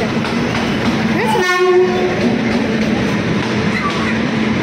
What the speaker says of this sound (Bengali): এইদিকে আর একটা মালগাড়ি আসছে